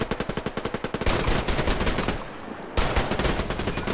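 Rapid bursts of gunfire in the game Survarium: a fast rattling volley, a brief lull, then another sustained stream of shots, loud and close.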